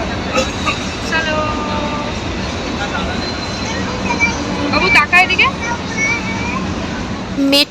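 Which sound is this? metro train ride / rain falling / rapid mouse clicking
metro train ride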